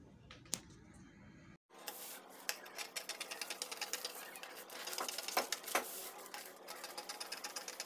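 Scissors cut through gown fabric in a close, steady series of crisp snips and rasping strokes after a brief pause, with no talking.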